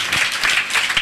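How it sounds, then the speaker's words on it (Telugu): A church congregation claps together during a sermon, a dense wash of hand claps with a few stronger peaks, steady and fairly close for about a second, with no voices over it. "చప్పట్లు కొట్టండి అందరూ"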